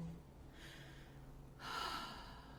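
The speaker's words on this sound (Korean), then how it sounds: "크게 들숨, 날숨, 그래서 호흡으로요, 이렇게 한 3번 정도만 숨을 깊게 들이셨다가 내쉬고" Deep, slow breaths drawn in and then let out, audible as two soft airy swells of inhaling and exhaling, close and quiet with no talking.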